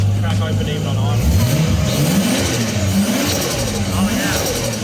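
A Nissan R32 Skyline engine idles roughly while its coolant is bled, then revs up and down several times, the pitch rising and falling, loud and close with voices talking over it.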